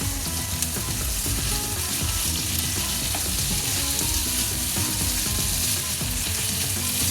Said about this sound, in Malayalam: വേപ്പിൻ്റെ ഇല ഇടാം. നല്ലോണം ഒന്ന് വഴറ്റി കൊടുത്ത്